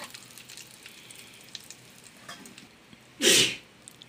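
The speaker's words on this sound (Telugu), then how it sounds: "ఇప్పుడు మనం ఇందులో కరివేపాకును కూడా మనం వేసుకొని ఈ మొత్తాన్ని మనం వేయించుకొని" Curry leaves and a spice tempering hit hot oil in a pan for a coconut mango pickle, giving one short, loud burst of sizzling near the end after a stretch of faint crackle.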